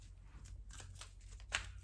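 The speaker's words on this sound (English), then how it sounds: "when I was shuffling, I also saw the Emperor" A tarot card deck being shuffled by hand, soft papery riffles and rustles across the clip with two sharper card snaps near the end, close and fairly quiet.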